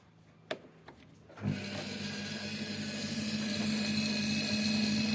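The electric motor of a cone log splitter switches on after a few quiet clicks, then runs as a steady close whirring hum that rises slightly as it spins up, with no talk.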